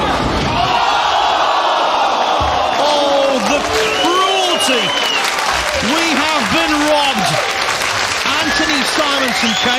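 A bowling crowd at the 2021 Weber Cup cheers and applauds loudly and without a break, with scattered shouts and whoops, while a commentator talks over the noise.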